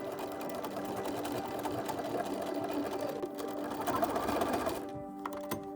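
A sewing machine stitches a garment's shoulder seam in a steady, continuous whir that runs close and loud for nearly five seconds, then stops abruptly.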